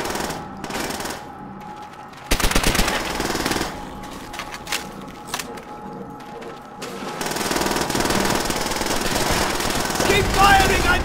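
Rapid machine-gun fire in the Soviet campaign of Call of Duty: World at War, bursts of rattling automatic shots that come and go amid battle noise, with shouted voices mixed in.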